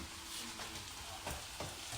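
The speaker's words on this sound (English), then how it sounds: "as that's sizzling away" Balti mix frying in a pan gives a steady, fairly quiet sizzle with faint stirring scrapes and a couple of soft clatters, and no talking.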